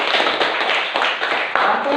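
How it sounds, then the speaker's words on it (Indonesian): A class of schoolchildren clapping hands together in a classroom, a dense, steady rattle of many small claps running loud and continuous throughout with no talk. "Oke, tepuk tangan."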